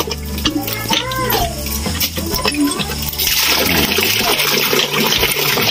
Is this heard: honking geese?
no